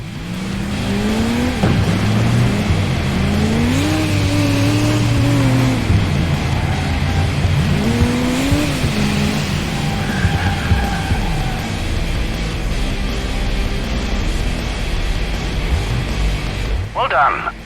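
In the video game Crash Time 2, a police chase car is rammed from the rear side into a spin, with a loud engine revving, tires squealing and skidding, and a sharp impact near the end. Someone talks over it.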